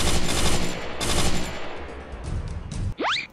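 Rapid automatic gunfire from a Free Fire video game match, dense bursts rolling loud and close for about three seconds before a short rising whoosh cuts in at the end.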